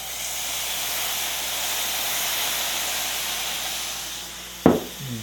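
Tamari and mirin steam under a lid in a hot pan, giving a steady broad hiss that ends in a short sharp clatter near the end.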